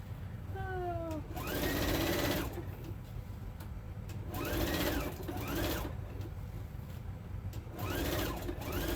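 A sewing machine stitches a Christmas tea towel in rapid whirring bursts that rise and fall, three runs separated by brief pauses, close and fairly loud.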